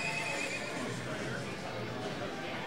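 A horse whinnies and then clip-clops as it arrives at a hitching post in front of a train station in the Disney Infinity Lone Ranger game, with the neigh near and loud over steady background game ambience.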